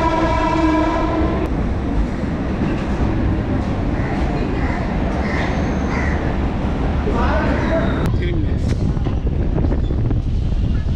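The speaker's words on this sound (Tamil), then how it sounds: "இப்போ ட்ரெயின் வந்து சேத்துப்பட்டு ரயில்வே ஸ்டேஷனுக்குள்ள என்ட்ரி ஆகுது." A suburban MEMU train rolls into Chetpet railway station, a steady loud rumble of wheels and carriage noise with a short horn at the start and a voice talking over it.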